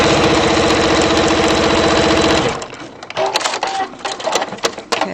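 A sewing machine runs fast and steady for a couple of seconds, stitching rows through a couture waistband with interfacing and fabric layers, then stops and leaves a few light clicks and handling taps.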